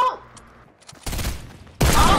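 Gunfire from a Fortnite match, heard as two loud, broadband bursts of shots about a second apart, following a quieter stretch of faint game sounds.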